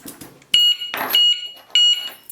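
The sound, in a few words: Amtech heavy duty alarm padlock beeping as alarm is set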